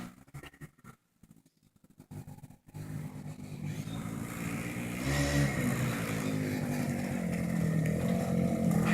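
A motorcycle engine drones steadily, growing louder as it approaches after a few seconds of faint rustling, with no talk.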